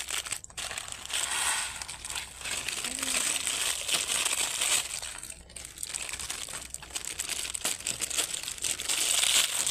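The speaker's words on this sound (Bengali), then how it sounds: "আবারও একটা প্যাকেট একই রকমভাবে গুঁড়ো করে নেব।" Maggi instant noodles crushed by hand inside their packet, a close, continuous crinkling and crunching of plastic wrapper and dry noodle pieces that runs steadily throughout with no talking.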